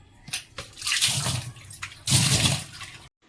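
Kitchen tap running while the sink and tap are scrubbed clean, with splashing water in two loud bursts and fainter trickling between, close by, without talk.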